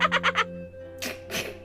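A parrot in a Nancy Drew mystery game at Blackmoor Manor lets out four quick squawky chirps, followed by two louder raspy cries over a faint steady background hum.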